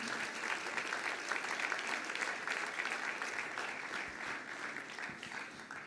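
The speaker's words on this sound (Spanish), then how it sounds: "Fuerte ese aplauso de alabanza al Señor." A church congregation breaks into sustained applause of praise to the Lord, a steady dense wash of many hands clapping at moderate distance with no speech over it.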